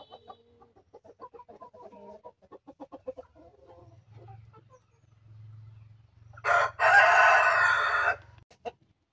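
Village chickens on a chicken farm cluck softly in a series of short calls, then a rooster lets out a loud, close crow lasting nearly two seconds, with a faint low hum underneath.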